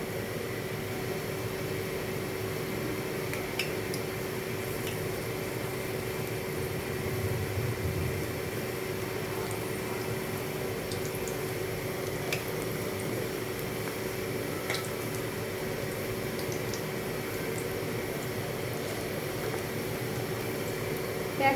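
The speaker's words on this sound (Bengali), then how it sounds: "একসঙ্গে চারটে দিয়ে দিয়েছি ভাজার জন্য।" Onion pakoras (piyaji) deep-fry in hot white oil in a wok, four at a time, making a soft, steady sizzle and bubbling hiss that continues evenly throughout with no speech.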